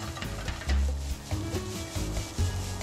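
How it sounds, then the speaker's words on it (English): Rice being stir-fried in a pan for a Filipino longganisa breakfast, with clumps broken up as it toasts crispy; close scraping and rubbing of a utensil against the pan in irregular strokes over a steady low rumble, with no speech. "So keep on moving the rice as you stir fry them in the pan."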